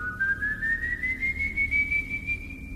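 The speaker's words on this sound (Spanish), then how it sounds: "el Silbón no habla, no grita, no corre, silba." A single clear whistle holds one long, slowly rising tone, thin and eerie, close by with nothing else around it: the simple melody of the Silbón from Venezuelan legend.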